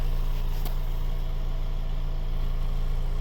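A 2005 BMW 318 E46 with a 1.8-litre petrol engine and automatic gearbox idles steadily up close, its exhaust giving an even low hum with one brief click.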